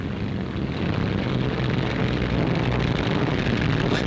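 WWII bomber planes come in to land at an airfield in England, a continuous broad roar of engines and rushing wind that stays loud and steady throughout, with no voices.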